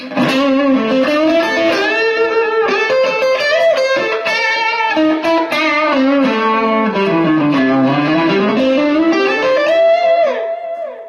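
Electric guitar played through a delay pedal, a sustained, effects-laden melody with echoing repeats trailing each note, steady and loud throughout with no talking.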